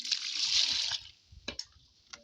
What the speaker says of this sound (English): Then adding my water.